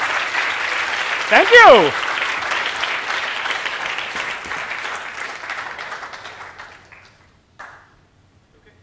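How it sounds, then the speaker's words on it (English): Audience applause after a lecture on moving water, a dense loud clapping that rings out for several seconds, fades and stops, with a brief burst of voices near the end and a short thank-you spoken over it. "Wow, that's a thunderous applause."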